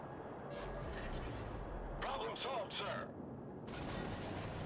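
Battleship secondary guns firing in World of Warships, a few muffled booming salvos in quick succession under a constant low rumble, with someone speaking over them.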